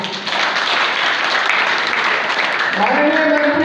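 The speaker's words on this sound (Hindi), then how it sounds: "जोरदार तालियां।" Loud, dense applause from a large crowd at a public stage event for paramilitary families with a government minister present, continuous throughout with a voice over the noise near the end.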